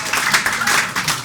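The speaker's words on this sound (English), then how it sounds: "could we also have an enormous round of applause for our two superstars here, Mr. James Haskell, Mr. Mike Tyndall." A studio audience on a rugby World Cup talk show applauds, giving a dense, steady patter of clapping throughout the short moment with no break.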